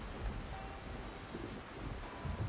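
Stormy night ambience from the video game Dave the Diver, with continuous rain and wind noise and low thunder-like rumbles, steady and moderately loud with no voices.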